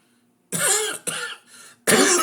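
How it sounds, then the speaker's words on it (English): A man coughs in three harsh, throaty bursts over about a second and a half, loud and close against a quiet background. "you got me coughing."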